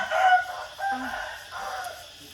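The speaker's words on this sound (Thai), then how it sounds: "โอ้ เสียงไก่อีกแล้วพ่อแม่พี่น้อง" A rooster crows at a morning market, a single drawn-out call standing out over busy background chatter and crowd noise.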